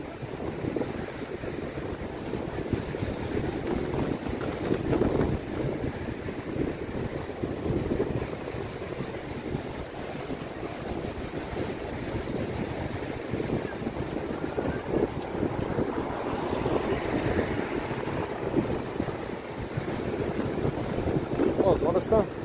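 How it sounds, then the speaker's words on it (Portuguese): Ocean waves breaking far off at Gravatá beach in Navegantes, a continuous soft wash of surf mixed with wind buffeting the microphone, with faint voices present. "tá quebrando longe as ondas"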